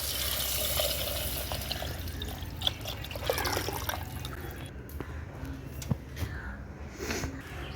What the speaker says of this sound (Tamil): கலந்து வச்சு தண்ணி ஊற்றிக்கலாம்